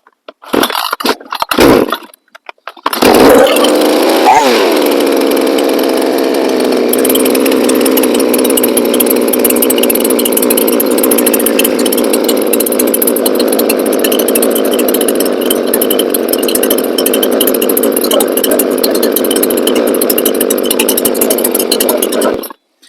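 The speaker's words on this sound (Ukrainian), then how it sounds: "Я ще там сьогодні не заводив, зараз подивимося, як вона заведеться." A petrol chainsaw being started after its carburetor was adjusted: a few rough pull-start bursts in the first seconds, then the engine catches and holds a loud, steady idle for about twenty seconds.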